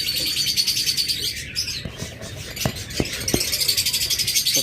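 Pet birds kept as breeding pairs in a cage chirp rapidly and continuously up close, with a few sharp rattles of the cage partway through and no speech.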